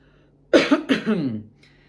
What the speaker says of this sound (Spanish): tosió 2 veces o 3 para poner en falta al Principito